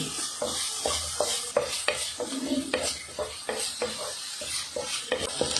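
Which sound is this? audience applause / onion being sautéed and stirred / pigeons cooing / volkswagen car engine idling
onion being sautéed and stirred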